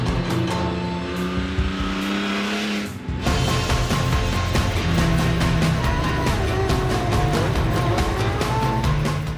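A rally car driven flat out in first gear screams at high revs, the engine note climbing and holding loud and close, with tire noise and a brief lift before the revs surge again.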